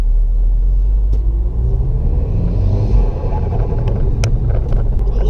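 A Revo-tuned Mk5 Golf GTI with a hybrid turbo, about 350 bhp, heard from inside while driving: a steady deep engine and road rumble with wind noise, continuous and loud throughout.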